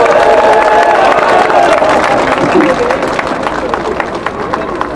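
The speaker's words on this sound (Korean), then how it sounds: "여러분 뜨거운 함성과 박수 부탁드립니다" A crowd at an outdoor election rally cheers and applauds loudly, a dense roar of voices and clapping that stays strong throughout, tapering slightly toward the end.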